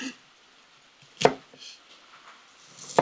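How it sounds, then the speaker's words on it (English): A knife chops onions on a cutting board for breakfast tacos: two sharp, isolated strikes a couple of seconds apart, fairly close and moderately quiet, with near silence between them. "Onions are now chopped."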